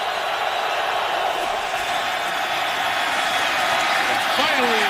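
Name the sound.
stadium crowd at Lions vs Bears football game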